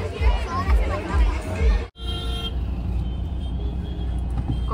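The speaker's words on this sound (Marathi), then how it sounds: "खूप ट्रॅफिक आहे इकडे." Busy street traffic with car horns sounding, a steady roar of engines and crowd noise, loud and near, with people talking over it before a brief cut to quieter continuing traffic.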